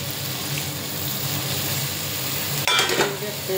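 Spices fry with a steady low sizzle for egg masala until water is poured in near the end, setting off a sudden louder burst of hissing and bubbling close by.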